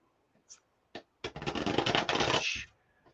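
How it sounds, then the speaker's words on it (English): A deck of tarot cards is shuffled up close, with a couple of light taps, then a dense riffling flutter of cards lasting about a second and a half before fading into quiet. "is shuffling her deck"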